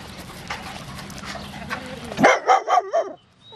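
A Yorkshire terrier barks indoors, firing off four sharp, close, rapid yaps in a quick burst after a stretch of quiet room noise.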